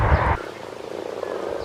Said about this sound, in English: Irish frogs actually croak very loudly during the mating season.